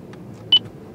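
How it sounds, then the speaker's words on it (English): A single short, clear electronic beep from a car's voice command system, sounding alone over a faint low hum. "Again, wait till after the beep and then say the name."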